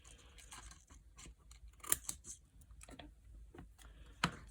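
Scissors snip through paper while trimming shark-craft teeth, a few sharp, close cuts scattered among soft rustling, the crispest snips standing out near the middle and the end.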